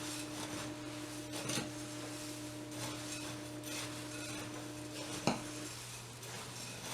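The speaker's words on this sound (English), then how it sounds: "I'm just going to give that a stir" A spoon stirs unsweetened shredded coconut into a granola mixture in a bowl, giving soft, steady scraping and rustling that stays faint, with one sharper click near the end.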